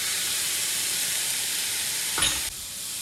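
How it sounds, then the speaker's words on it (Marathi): Washed, chopped leafy greens drop into a hot pan in a village kitchen, giving a steady loud sizzle and hiss that flares briefly near the end before settling, with no talking. "आणि धुवून कट करून ठेवलेली भाजी मग यामध्ये टाकते."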